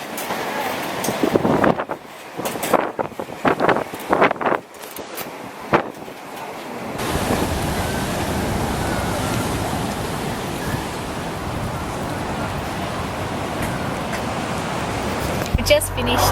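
Surf rolls steadily at Bondi Beach in Sydney, a continuous broad wash of breaking waves with gusty wind rumble against the microphone, preceded by a few seconds of choppy handling bumps.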